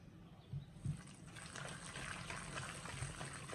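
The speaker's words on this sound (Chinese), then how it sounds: "次加入我们提前泡好的葱姜花椒水。" Scallion, ginger and Sichuan peppercorn soaking water being poured into raw dumpling and wonton filling gives a soft, low liquid splash and trickle, with a couple of brief glugs near the start, alone and fairly quiet.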